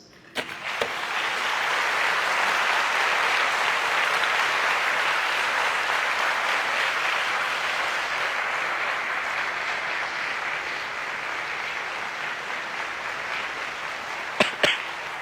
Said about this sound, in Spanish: Me quedo con sus aplausos cariñosos, me los llevo conmigo.